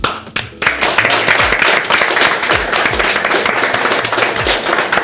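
An audience at an evening show applauds loudly and steadily, with dense clapping from a large crowd that fills the whole stretch without pause.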